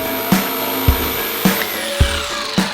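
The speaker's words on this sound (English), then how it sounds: "used my jigsaw to cut out the rest of the circle" A jigsaw cuts a circle out of wood after a drilled starter hole, its rasping buzz steady and close, with a sharp knock about every half second as the blade and workpiece shift.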